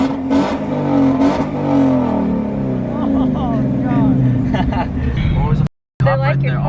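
A modified 5.0 car engine rumbles loud and close, with throttle blips and a falling low drone, while voices speak over it; a brief dropout cuts the sound near the end.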